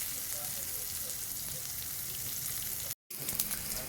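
Pointed gourd (potol) slices fry in a pan with a steady, close sizzle and crackle that stays constant apart from a brief cut-out near the end.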